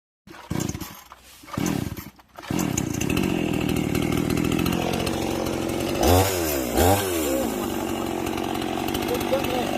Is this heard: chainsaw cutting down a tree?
yes